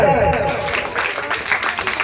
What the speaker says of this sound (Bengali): রাজু দা হাততালি কোথায়?